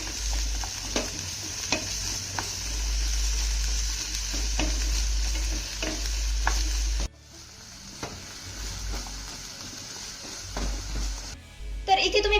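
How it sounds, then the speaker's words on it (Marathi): Chopped onion and tomato sauté in a pan with a continuous sizzle, broken by intermittent stirring scrapes and a low steady hum, briefly dropping in level partway through. "आपल्याला हा कांदा आणि टोमॅटो मौसूद होईपर्यंत छान असा परतून घ्यायचा आहे"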